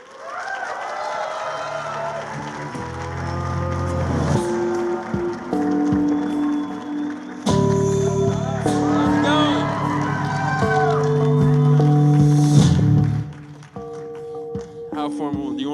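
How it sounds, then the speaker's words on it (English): Comic con panel audience at Alamo City Comic Con breaking into sustained applause and cheering with scattered whoops, mixed under music and crowd noise for most of the stretch. "let's give a round of applause"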